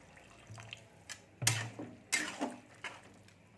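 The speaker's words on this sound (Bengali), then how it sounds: "এই দেখুন আমি জল দিয়ে দিচ্ছি একটু।" Water poured into a cooking pot while making mochar ghonto, a banana blossom dish, with a few short splashing pours, close and moderately loud, separated by brief pauses, no talk.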